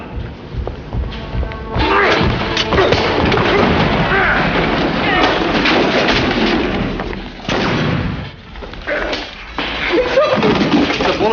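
Gunfire in a TV drama scene involving frozen meat, loud booming shots and thuds mixed with shouting voices and commotion, dense and continuous rather than clearly separated bursts.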